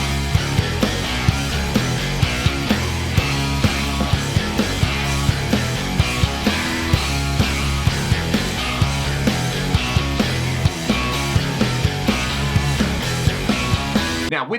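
Dense, heavily distorted electric guitars layered into a thick fuzzy wall with drums, steady and loud throughout.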